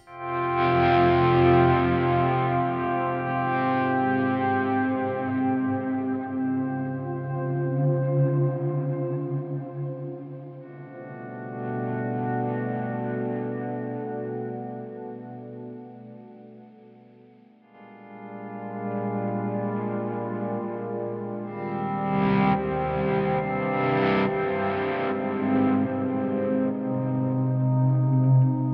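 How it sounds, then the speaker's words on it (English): Electric guitar through a stereo dual-amp rig with a patch blending delay and reverb, playing swelling sustained chords that bloom in and fade with long ambient tails, loud and continuous with no talk. "It's a very good blend of delay and reverb for big healthy swells."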